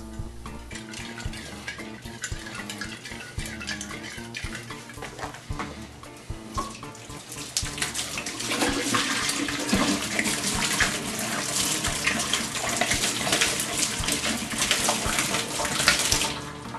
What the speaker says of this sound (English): and then pouring the water out into the sink